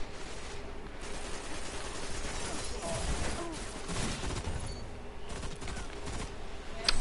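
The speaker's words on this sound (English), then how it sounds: "I love how the guns sound though" Bursts of rapid gunfire from a PS4 shooter game crackle continuously at moderate loudness, a dense fusillade with mechanical clatter, with faint talk in the background.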